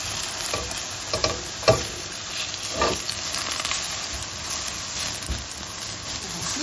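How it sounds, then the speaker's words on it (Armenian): Eggplant sizzling in vegetable oil in a pan, a steady soft frying hiss with occasional faint crackles and stirring clicks, no voices. "Եվ սմբուկի վրա ահա մի քիչ բուսայուղ ենք ավելացնում։ Սկսում է աղմկել սմբուկը"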